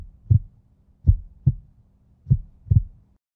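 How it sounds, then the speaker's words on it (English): Heartbeat thuds, five soft low pulses spaced unevenly over about three seconds, muffled and close, against silence. "Like your heartbeat."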